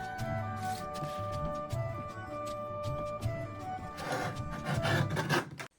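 Printed paper wall posters being cut by hand, a steady rasping, rubbing cut sound close by with repeated strokes, growing louder near the end, no talk.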